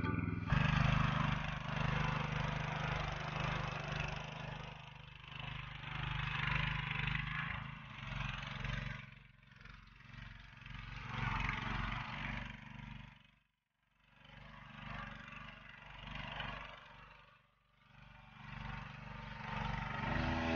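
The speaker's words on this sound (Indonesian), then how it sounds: "Kita lagi mencuci FTL 900G ini pakai mesin potong rumput bisa pompa air." A lawn mower engine drives a water pump while washing an FTL900G tractor, giving a steady, moderately loud drone with a few brief dips in level.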